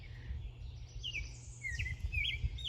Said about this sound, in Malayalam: കിളിയുടെ പാട്ട് കേട്ടാ